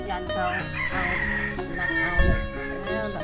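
Two chickens kept in a cage in a rural Phu Thai village in Laos; a rooster crows loudly in a long, drawn-out call, with clucking and faint voices in the background.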